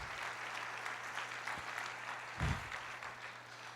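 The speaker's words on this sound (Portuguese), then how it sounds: "Aplauda ao Senhor," A church congregation applauds, a quiet, somewhat distant patter of many hands clapping with a couple of louder thumps partway through.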